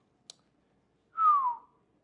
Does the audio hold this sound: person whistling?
yes